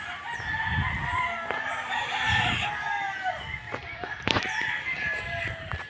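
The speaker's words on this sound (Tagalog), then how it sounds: "Bisitahin natin ang mga manok dito." Roosters at a gamefowl farm crow, several overlapping calls near and farther off, with clucking and a few sharp knocks among them.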